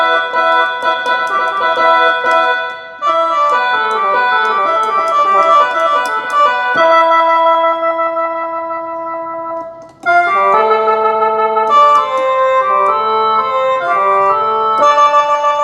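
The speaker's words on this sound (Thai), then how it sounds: "ตัวนี้จะเป็นแคนอีสาน" A Roland SV-800 keyboard plays its Isan khaen patch, a loud, reedy, chord-like mouth-organ tone with sustained drones under rapid melodic runs, pausing briefly twice before resuming.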